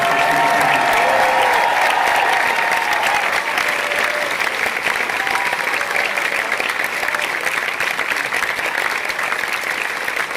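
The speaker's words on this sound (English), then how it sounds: "please take a moment and give a loud round of applause to the dedicated time" A convention crowd at the Megaplex 2021 closing ceremonies gives staff a loud, sustained round of applause, dense clapping that fills the hall for ten seconds at a steady level, with faint voices at the start.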